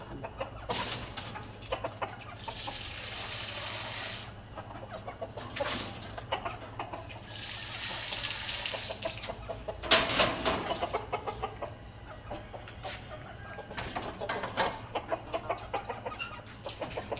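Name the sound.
chickens clucking while being fed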